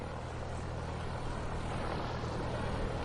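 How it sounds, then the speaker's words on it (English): A plane taxiing toward the runway in the game Nobodies: Silent Blood, its engine and propeller making a steady, loud, even drone throughout. "Let's get this plane to the runway for takeoff."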